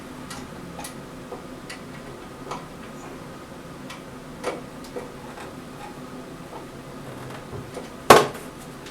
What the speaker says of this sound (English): Ratcheting the wrong way.